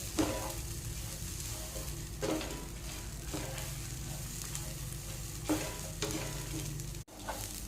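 Masala spices frying together in a pan on a stove, with a steady sizzle and repeated scraping stirs of a spoon at intervals, close and fairly loud with no talking.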